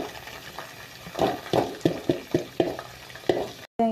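Chillies and onions sizzle in a pan for chicken curry, with a steady fry under a series of sharp, close stirring scrapes of a spoon against the pan.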